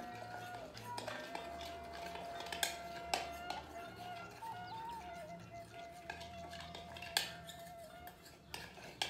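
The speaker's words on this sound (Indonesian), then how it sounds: "Kita aduk lagi." A spoon clinks and scrapes against a cup or bowl in repeated stirring strokes, mixing dalgona coffee with cold water, close by, over a low background hum.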